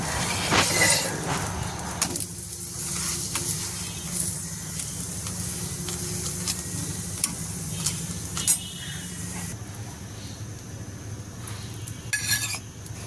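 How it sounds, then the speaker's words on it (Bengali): Paratha frying in oil on a hot griddle gives a steady low sizzle across the whole stretch, with a few brief clinks and scrapes of a utensil over it and no talking. "তারপরে আর কি এক পাশ উল্টায় নিয়ে পরে তেল দিই"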